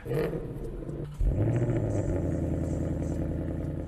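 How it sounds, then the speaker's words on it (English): A Ford Mustang GT's V8 engine idles with a deep, loud, steady rumble, then surges into a heavier revving roar that holds close by to the end. "Here's what the Mustang GT usually sounds like."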